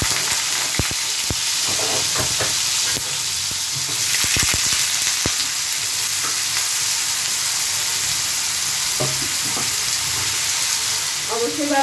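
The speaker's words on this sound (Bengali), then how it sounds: "এটা আমি আলু ফ্রাই করব" Potatoes frying in hot white oil make a loud, dense, continuous sizzle close up, with occasional sharp pops and taps of a utensil against the pan.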